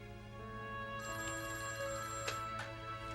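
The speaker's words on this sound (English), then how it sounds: "I walked over to the telephone to dial Stan." A telephone rings after a number is dialed, a steady electronic ringing tone that starts about a second in and continues, heard alone without talk.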